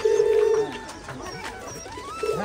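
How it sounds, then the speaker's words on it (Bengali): Pigeons at a pigeon farm coo in low, throaty calls, loudest at the start and again near the end, with soft bird sounds in between and no talking. "সেই কবুতরের খামার, অসাধারণ"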